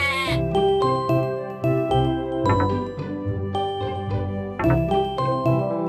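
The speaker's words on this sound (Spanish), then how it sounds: "Ovejas." Sheep bleating in a children's animal-sounds song, several repeated bleats over bright jingling bell tones and backing music, no talking.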